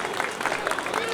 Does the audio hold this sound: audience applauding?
yes